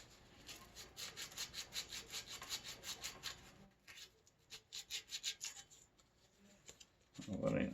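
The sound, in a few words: sanding rust off a vintage Trek bicycle with sandpaper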